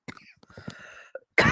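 A few short, dry coughs and throat sounds break up quiet, choppy bits of voice, followed by a burst of noise at the end.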